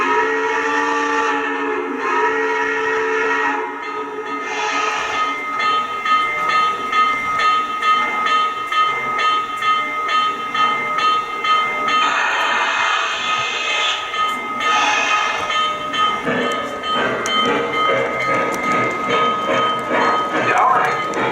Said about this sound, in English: Tower, train is moving.